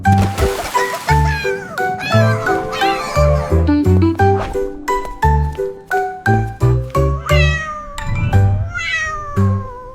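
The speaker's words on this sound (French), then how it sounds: "Le chat miaula doucement" A cat meows repeatedly over a bright, tinkling musical backing with steady rhythmic beats, the meows rising and falling throughout.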